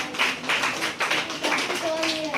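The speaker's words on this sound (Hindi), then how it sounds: "ताली बजाओ उसके लिए।" Students in a classroom clap briefly for a classmate, a short burst of scattered hand claps mixed with the teacher's voice and room chatter.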